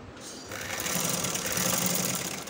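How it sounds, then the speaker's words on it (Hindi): A sewing machine stitches elastic onto a hijab chadar in a fast, steady mechanical chatter. It starts softly and grows louder after a moment, then runs on without talk. "इसे पक्का कर लेना है 1-2 सिलाइयाँ लगाकर।"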